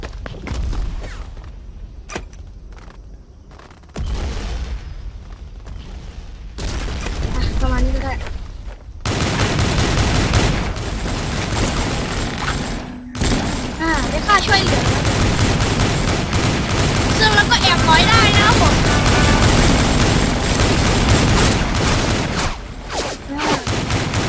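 Guns fire in the online shooter Avatar Star: loud rapid bursts and repeated shots, with game effects and a voice talking at times. Brief quiet gaps break up the sustained firing.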